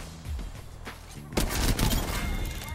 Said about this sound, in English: Shoot so I can climb up.